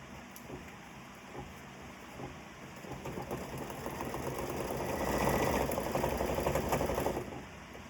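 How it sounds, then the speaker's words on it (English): An embroidery machine stitches decorative fill stitches, likely in metallic gold thread, with a steady, rapid mechanical whirring and clatter that swells louder through the middle before easing off near the end. "I'm going to go ahead and stitch my decorative fill stitches."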